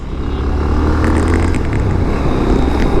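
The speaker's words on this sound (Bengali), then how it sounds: "আমি অনেকদিন পরে এত জোরে রাইড করতেছি রাজশাহী শহরে ভাই" A motorcycle ridden fast through city traffic in Rajshahi, a steady loud engine drone with wind rush running throughout, close and continuous with no voices.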